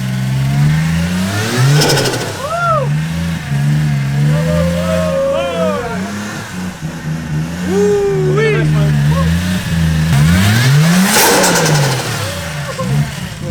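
A car engine, just fitted with new spark plugs, revs repeatedly, pitch rising and falling in several bursts, loud and close, with people talking over it at times.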